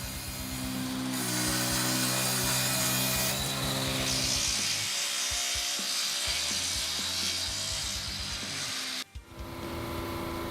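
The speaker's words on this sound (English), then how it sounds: "Next up is the 2023 hand crank turbine saw model, which is an attractive combination of tradition and innovation, offering a unique experience in woodworking." A 2023 hand crank turbine saw cuts through wood with a steady, continuous rasping grind, alone and fairly loud, with a brief dropout near the end.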